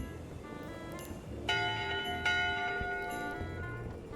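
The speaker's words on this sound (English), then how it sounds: "Double bell." A double bell rings in the game Return to Monkey Island, two clear resonant strikes about a second apart whose tones hang and ring out over a quiet ambient bed.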